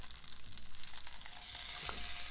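Duck breast sizzling as it sears in a pan on the stove, a steady close crackle with faint popping spatters and no talking.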